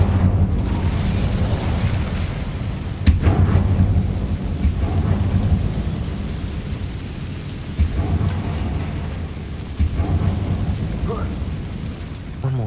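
A fire spell cast in the video game Hogwarts Legacy: a deep rumbling, roaring blast with sharp crackling bursts, loud and sustained like a thunderous explosion of flame.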